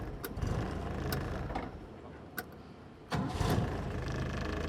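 A restored 1958 Jeep Willys engine cranks, catches and settles into a steady, loud idle, with sharp bursts as it fires and a throaty rumble running alone throughout.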